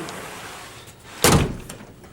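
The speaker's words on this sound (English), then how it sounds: "Pull the door open. We raise the bottom seal, pull it away from its neighbor." A folding partition door is pulled open, giving one sharp, loud sliding thud that quickly fades, amid quiet surroundings.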